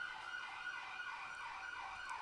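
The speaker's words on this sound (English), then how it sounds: "I'm assuming you can hear the siren in the background." A police siren wails faintly in the distance, its rising and falling tone sweeping steadily and repeatedly.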